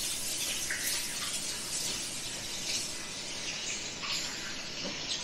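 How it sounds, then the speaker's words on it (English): A tap runs outdoors while hands are washed, a steady soft hiss of flowing water with faint splashes, constant and moderately quiet with no talking. "I'm gonna wash my hands out here so I can do this."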